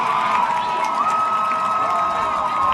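A high school football crowd cheers at a Friday night game in Mississippi after a touchdown. The roar is dense and steady, with shouts and whoops mixed in, and it stays loud throughout with no talk on top.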